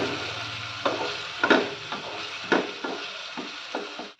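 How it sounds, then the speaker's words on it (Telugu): Chopped tomatoes frying dry in a pan for a Hyderabadi-style cashew paneer curry, with a steady close sizzle and repeated scraping stir strokes about every half second. "మనకి టొమాటో అంతా ఎక్కడ వాటర్ లేకుండా బాగా ఫ్రై అయిపోయింది"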